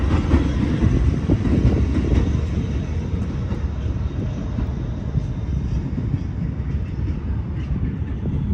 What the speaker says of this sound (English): we're gonna ride the train from all the way back